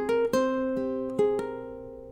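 Ukulele picking a short phrase from a theme, a few clear plucked notes with ringing sustain, close and alone.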